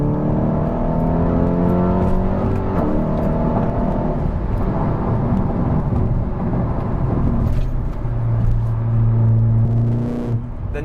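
A 530 bhp Stage 3 Volkswagen Golf R with a twin-pipe exhaust accelerates hard, its engine note climbing through the gears with a loud, rising roar and rumble, close and continuous.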